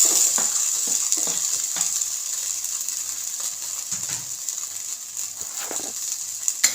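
Onion and diced potato sizzle steadily in a hot pan for egg curry while a utensil scrapes and stirs now and then, close and continuous with no talking.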